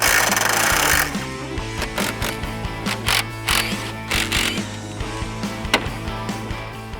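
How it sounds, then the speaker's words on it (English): A ratchet clicks in quick bursts while an 8mm bolt and 10mm nut are removed from a headlight on a Ford F-150, close mechanical ratcheting with short pauses and a brief louder opening burst. "let's go ahead and get started here by removing this 8mm bolt and that 10mm nut"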